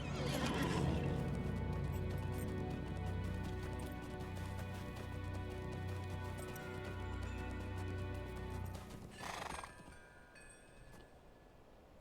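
In the Lord of the Rings Online video game, a horse whinnies loudly, then hooves clip-clop steadily before a second sharp neigh near the end.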